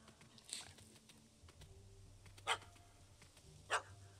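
A dog barking in The Witcher 3 video game: a few sharp, separate barks at a moderate distance over a faint ambient game background, with clicking between them.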